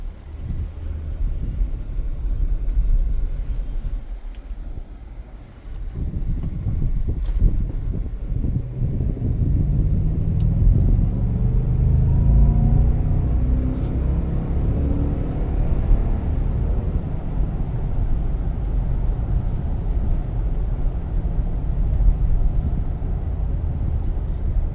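Cabin of a Lexus LX570 SUV on the move, a steady low road rumble and muted tire and wind roar filling the interior, fairly quiet and continuous with no voices.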